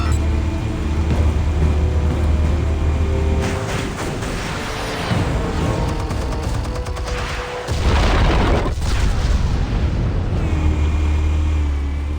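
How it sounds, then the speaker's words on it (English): Explosives detonate in the Batman Telltale video game: deep, loud booms roll out with heavy low rumble and debris noise, one sharp blast hitting near the middle before the rumble settles back into a sustained roar. "Explosives armed. Fire when ready."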